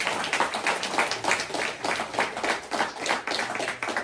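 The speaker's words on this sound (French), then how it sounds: "Applaudissez-moi à ce Dieu." A church congregation claps and applauds steadily for about four seconds, a dense, continuous wash of many hands close by with no talk over it.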